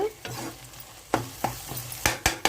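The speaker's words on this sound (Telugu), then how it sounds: "ఉల్లిపాయలు వేస్తానండి కూడా ఎర్రగా ఎగిపోవాలి ఉల్లిపాయ ముక్కలు కూడా ఏగిపోయినాయండి" Onion pieces frying in hot oil for a Telugu dry fish and egg curry, a steady sizzle broken by sharp close scrapes and knocks of a spoon stirring the pan, several in quick succession at the end.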